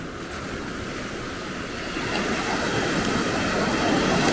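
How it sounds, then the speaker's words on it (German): Ocean surf breaks steadily along the shore at Maspalomas, Gran Canaria, on an early morning, a continuous broadband wash that swells louder midway as a bigger wave rolls in; no voices. "Und die schönen Wellen dazu,"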